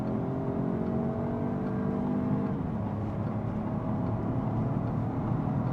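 Peugeot 308 1.2 Turbo pulling at full throttle from a standstill on an uphill road with two people aboard, a steady cabin engine drone rising in pitch throughout, loud and continuous with no talk.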